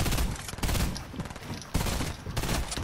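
Loud, rapid video-game gunfire crackles in dense bursts, with sharp volleys near the start, middle and end, and no voices over it.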